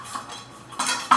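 A lightweight little frying pan being handled, giving a few light metallic clinks and scrapes close by, with brief quiet gaps between.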